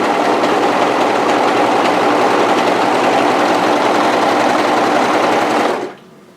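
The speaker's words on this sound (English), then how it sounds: "just overlock towards the corner" An overlocker serger stitches knit fabric toward an internal corner with a loud, steady, close mechanical whir that runs continuously and then winds down abruptly near the end.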